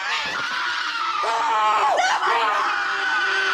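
A high, drawn-out scream from a horror film, rising and wavering over about three seconds of loud, continuous sound, with pitch sweeps and a breathy, laugh-like quality at the edges.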